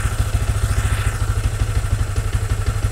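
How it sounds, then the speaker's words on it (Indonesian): A motorcycle engine idles during warm-up in a tuning session, a close, steady low thumping putter with light mechanical clatter and no voices. "Nah, ini udah mulai idle."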